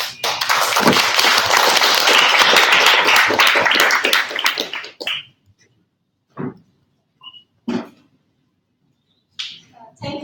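Audience applause at a blockchain meetup in Ho Chi Minh City, loud and dense for about five seconds, then dying away into a few scattered claps and taps.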